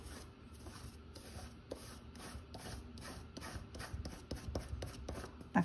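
A tool dragged vigorously back and forth across Jac paper, giving a steady, faint scraping rasp of repeated rubbing strokes that builds slightly louder toward the end.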